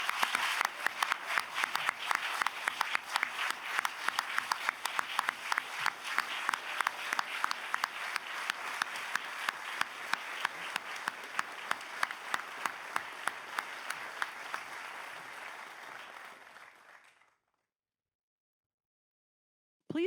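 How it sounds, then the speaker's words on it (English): Audience at the Service to America Medals gala honoring public servants gives sustained, dense applause for about seventeen seconds, then it cuts to silence. "Let's give them a round of applause"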